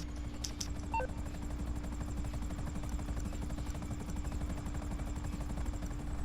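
A helicopter in the video game GTA 5 Online drones steadily throughout, a constant loud rotor and engine hum with a couple of brief sharp blips early on.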